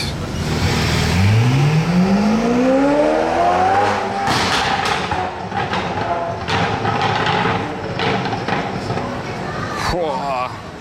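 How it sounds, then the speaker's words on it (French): A Ferrari F8 with a straight-pipe exhaust revs loudly on a Monaco street: the engine note climbs steeply, then drops into crackling pops and bangs, with voices talking over the noise. "F8 échappement libre, GTO. Écoutez cette F8."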